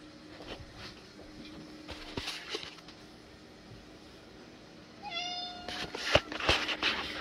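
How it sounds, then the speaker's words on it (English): A cat meows several times, loud and close, in a room with scattered light knocks and shuffling. "What does the kitty want?"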